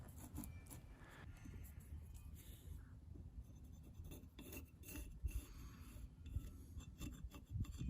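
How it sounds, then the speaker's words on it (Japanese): Wire brush scrubbing soot off a camping hand axe head after annealing, faint steady raspy scratching strokes up close, with occasional light metallic clinks. "軽くワイヤーブラシなどでこすってすすを払います。"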